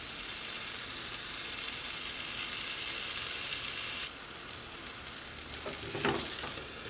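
Green hariyali chicken tikka sizzles steadily in a double-sided grill pan, a constant bright hiss, with a short clatter near the end as the pieces are turned.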